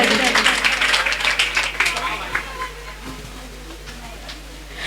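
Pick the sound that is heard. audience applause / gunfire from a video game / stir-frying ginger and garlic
audience applause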